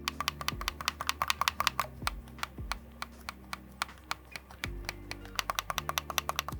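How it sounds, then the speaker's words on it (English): NYXI Hyperion Pro Joy-Con buttons pressed rapidly, the right controller first and then the left, producing dense quick clicking taps close up, crisper in the opening run and duller in the later one, with no talk. "This right one is more clicky, but this left one, mushy."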